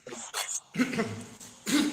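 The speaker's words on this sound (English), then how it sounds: "Don't mind me, I have cough" Three or four harsh, throaty coughs in close succession, loud and near, with short pauses between bursts and no talking.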